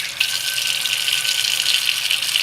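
Cold tap water pouring into a kitchen sink, a steady close hiss and gush with no breaks or voices over its short span.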